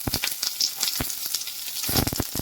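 Finely chopped onion sizzling in a pan for Kerala-style pasta, a close, crackling fry broken by clicks and scrapes of stirring, with no talking.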